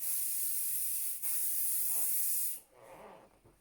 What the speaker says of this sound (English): I'm then going to put some hairspray